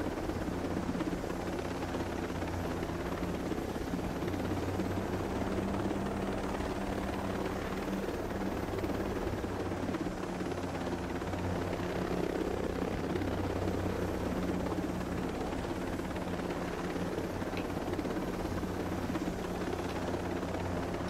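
A helicopter flies in the video game Ghost Recon Breakpoint, its rotor and engine droning loud, close and unbroken, with no talk.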